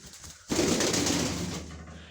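A pigeon's wings clap and flutter loudly for over a second, then the noise fades into quiet.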